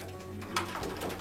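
A pigeon coos softly at close range, a low throaty call rising briefly near the middle, at a pigeon racing event in Temanggung.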